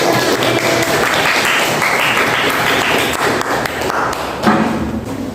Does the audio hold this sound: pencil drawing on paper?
no